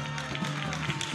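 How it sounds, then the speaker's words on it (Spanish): Applause from an audience for the young regional champions of children's cueca dancing at a Chacolí 2013 festival, a steady dense clapping wash under a loud announcer's voice. "¡Fuerte el aplauso!"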